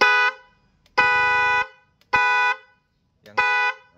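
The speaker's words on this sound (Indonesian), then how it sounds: "Nah, ini klaksonnya teman-teman ya." A newly installed motorbike horn honks four times, each blast loud, buzzy and lasting about half a second, with short gaps in between.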